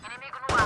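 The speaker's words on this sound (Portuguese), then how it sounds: "Tiros." Gunfire in the video game Valorant, on a Raze round, cuts in as a sudden loud burst of shots after a few softer tonal game sounds, all within under a second.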